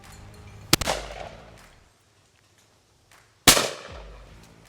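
A Ruger Red Label 20 gauge over-under shotgun fires two sharp, loud reports about three seconds apart, each trailing off in a short echoing rumble outdoors.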